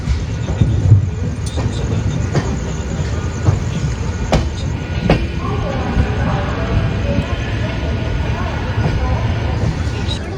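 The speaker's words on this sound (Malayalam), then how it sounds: "അപ്പുറത്തൂടെ ലോക്കൽ ട്രെയിൻ പോകുന്നുണ്ടോ? Mumbai local train." A Mumbai local train rumbles past on the adjacent track near Diva Junction, heard from inside a moving sleeper-class coach, with a loud steady roar, rattling, and a few sharp clicks over the whole stretch.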